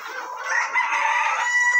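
Hens in a backyard poultry coop cluck steadily and close by, with a rooster's crow rising within the continuous fowl chatter and no talk over it.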